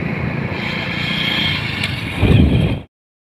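A motorcycle ridden along a road gives a steady, close, loud engine rumble mixed with rushing wind noise, swelling slightly before it stops abruptly.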